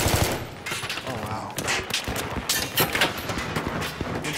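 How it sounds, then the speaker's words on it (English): Automatic gunfire from AI bots in Battlefield 3, played on a Venice Unleashed team deathmatch mod, rattling in rapid bursts mixed with explosions and game noise, loud and busy throughout. "So they're shooting at you as their parachute."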